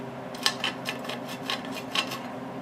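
A center-punched metal hole on a Ford F100 truck is deburred with a few short twisting scrapes, a close, gritty metallic rasping in uneven strokes and no voices.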